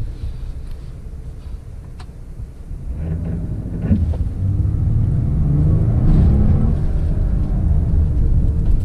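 A 2019 Chrysler Pacifica van launching hard from a brake-torque start, its engine rumble swelling steadily into a loud, sustained acceleration roar with wind noise at the microphone.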